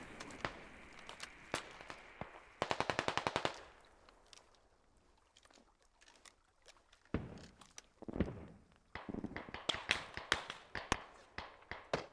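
Gunfire in the military shooter game Squad: a rapid burst of automatic shots around the third second, scattered single sharp cracks and thuds before and after, with a quiet stretch in the middle and near, dense impacts toward the end.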